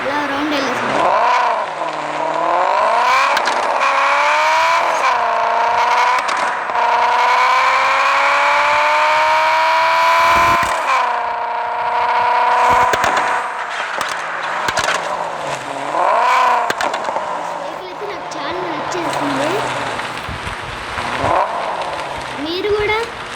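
A modified Honda Civic EK9 engine on a drive, loud revving that climbs and falls through several gear changes, with a person talking over parts of it.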